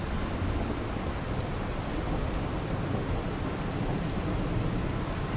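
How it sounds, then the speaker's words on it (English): Heavy rain pours steadily in the post-apocalyptic trucking game Dustland Delivery. A low thunderstorm rumble runs beneath the dense, constant hiss of downpour, with no talking. "Might not be a bad idea while we're in the heavy rain to collect some rainwater too"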